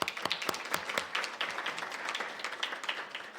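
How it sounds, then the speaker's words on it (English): Applause from an audience at an IFFD briefing during a UN social development session, with sharp, uneven claps from a modest crowd that hold steady for a few seconds. "I would like everybody to give you an applause for that"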